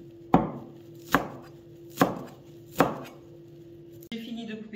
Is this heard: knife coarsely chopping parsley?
yes